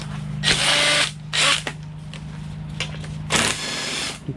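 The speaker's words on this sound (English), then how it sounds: "Remove this bolt, Jason." A power drill or impact tool removes a bolt from the power steering pump on a 2008 Mercedes Sprinter 3.0L diesel: three loud, close whirring bursts, the first and last about half a second each, a shorter one between, over a steady workshop hum.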